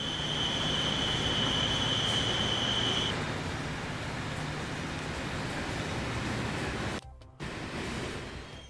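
Train rumble from a V80 locomotive in Transport Fever 2 on a freight mainline, a steady broadband rolling roar with a faint high whine early on, briefly cut out near the end.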